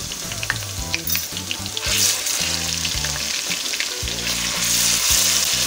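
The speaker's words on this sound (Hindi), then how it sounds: "इसे भी हल्का हल्का फ्राई कर लेंगे" Garlic-ginger paste frying with golden-browned onions in a pan for a torai chicken curry: a steady, loud, close sizzle over a low musical background, with no talk.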